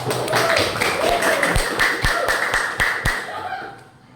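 Classroom applause, several students clapping together in a quick, uneven patter that fades out after about three and a half seconds, with light voices underneath.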